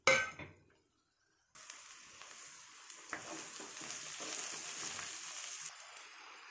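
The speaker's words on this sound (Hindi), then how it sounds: "इसको भी इसके साथ हम सौते करेंगे।" Chopped capsicum (bell pepper) sautéing in a pan for red sauce pasta, a steady close sizzle with occasional metallic clangs of a spoon against the pan, following a brief louder clatter and a moment of silence.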